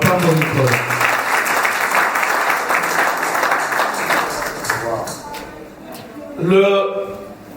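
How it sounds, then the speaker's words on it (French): A church congregation applauding and cheering at a Christian service, a sustained wash of clapping and voices that fades, with a voice speaking near the end. "Acclamons le Seigneur."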